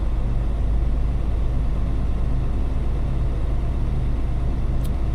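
A Class A truck engine idles steadily through an in-cab inspection, a constant low rumble filling the cab with no break or change in level, and no talk over it.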